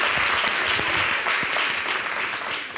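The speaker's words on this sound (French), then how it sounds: "L'équipe d'en face est plutôt fair play parce qu'elle applaudit." Applause from the opposing team on a televised quiz show, a dense, sustained patter of many hands clapping in a studio, steady and fairly loud for the whole stretch.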